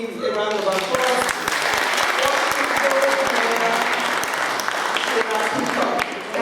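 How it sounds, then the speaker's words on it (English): An audience at a community gathering applauds steadily and loudly throughout, a dense wash of many hands clapping close by, with voices faintly mixed in beneath the clapping. "we give a round of applause"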